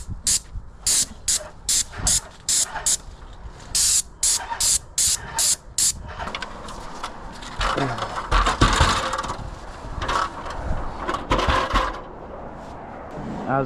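A paint sprayer coating a house exterior, heard first as short regular hissing bursts, then as a longer steadier spray with rustling and movement, moderately close, with no clear speech.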